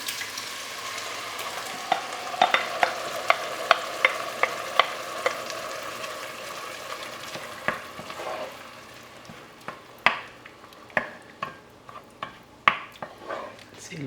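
Fresh tomatoes dropped into a pan of softened onions and garlic for homemade marinara, a steady frying sizzle under repeated sharp clicks and scrapes of a spoon stirring against the pan, close by with no talking.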